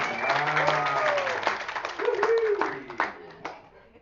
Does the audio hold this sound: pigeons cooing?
no